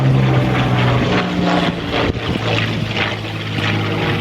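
A Curtiss P-40 Kittyhawk fighter flies over Temora, New South Wales. Its propeller engine drones loudly and steadily, a low pulsing hum that holds throughout with no voices.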